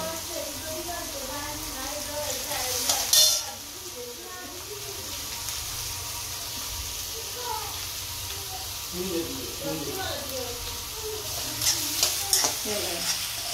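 Ginger garlic paste frying in a pan with onion for Hakka noodles, a soft steady sizzle under intermittent scraping stir strokes, with someone talking quietly over the cooking and a few sharper clinks.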